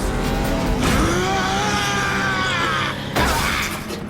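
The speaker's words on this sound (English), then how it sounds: "the red sports car that just flew by was Skybite!" A red sports car races past at speed in an animated auto race, its loud engine note rising then sweeping by over about four seconds, with a second burst of roaring motion near the end.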